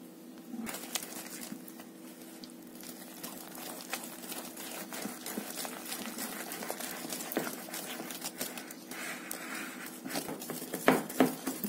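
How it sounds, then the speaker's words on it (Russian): Butter, powdered sugar and egg whisked together by hand for chocolate cookie dough, quiet rapid tapping and clicking of the whisk in the bowl, growing a little louder toward the end, no talking. "Добавляем яйцо и дальше взбиваем."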